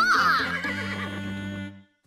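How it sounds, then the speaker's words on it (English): A cartoon horse gives a loud, close whinny that starts high and shrill, then settles into a long, shaky neigh that fades out after nearly two seconds. "Perched safely on the horse, Caillou felt like a cowboy as Uncle Felix led him and Harry around the"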